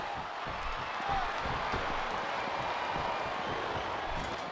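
Crowd noise from a WWE SmackDown vs Raw wrestling video game arena, a steady dense roar of cheering that runs loud and unbroken throughout.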